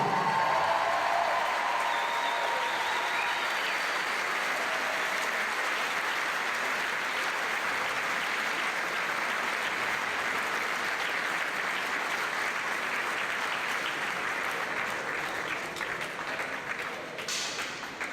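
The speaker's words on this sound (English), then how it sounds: "Please, big applause for Mina Markovic." Steady applause from an audience at a climbing World Cup lead finals medal ceremony in Valence, sustained and moderately distant for the whole stretch, tapering slightly near the end.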